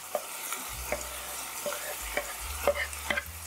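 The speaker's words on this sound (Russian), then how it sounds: "Когда фарш обжарился, добавляю морковь. Обжариваю ее примерно в течение пары минут" Minced meat and carrots sizzle in a frying pan while a utensil stirs and scrapes through them in a few distinct strokes, with a low steady hum underneath and no voices.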